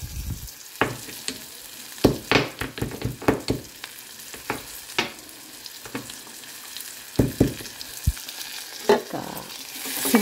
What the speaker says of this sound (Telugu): సింపుల్ కర్రీ చేస్తున్నాం.